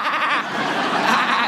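A person imitates a sheep's bleat with one loud, sustained, wavering "baa" sound, close and alone.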